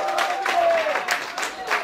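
Brief burst of applause from a crowd at a running race ceremony, clustered claps rising and falling under a speaking voice.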